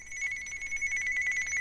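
A telephone rings indoors in a fast repeating electronic trill, a run of pulses at moderate volume with no talking.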